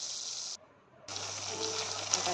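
Water poured into a pan of hot oil while cooking, giving a steady broadband gushing sizzle that breaks off briefly and then resumes with a low hum underneath.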